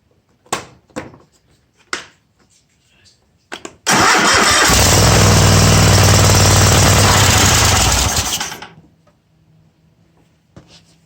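A Kohler small engine, fitted with a newly installed head gasket and running without its blower housing, cranks and fires into a loud, rough, steady roar for about four seconds, then dies away; a few clicks and knocks come before and after.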